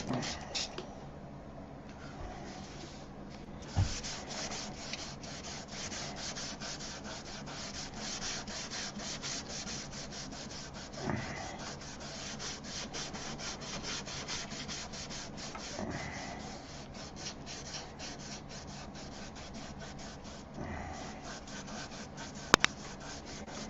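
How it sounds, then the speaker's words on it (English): Sandpaper rubs steadily against a surface in continuous, close, scratchy strokes for the whole stretch, with a few sharp knocks scattered through. "You can feel it as you're sanding."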